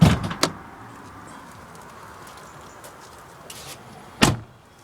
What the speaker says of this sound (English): Just pop the bonnet open.